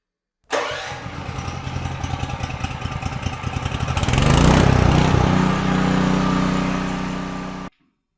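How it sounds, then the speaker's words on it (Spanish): A 2G40 Elite 4000-watt single-phase petrol generator with electric start cranks and catches, then runs with a loud, steady engine drone that swells to a fuller roar midway before cutting off, with no talking. "Tan pronto enciende nuestro motor, debemos manipular la palanca de choque para colocarla en la posición en marcha."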